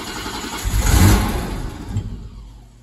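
A barn-find BMW 635 CSi engine cranks and catches, swelling to a brief rev before settling back toward a rough idle, close and fairly loud with no talking.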